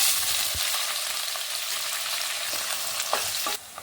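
Onion, mustard seeds and chana dal frying in hot oil, a loud continuous hiss and crackle with a few stirring knocks, close up, cutting off sharply near the end.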